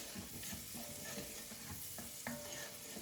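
Onions sautéing in a pan for a carrot ginger soup make a quiet, continuous sizzle, with light stirring scrapes throughout.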